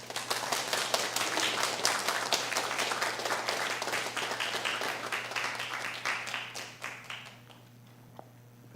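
A church congregation claps during a Taiwanese-language Presbyterian Sunday service, a dense, steady round of many hands that gradually thins and fades out near the end, heard from some distance in a reverberant hall.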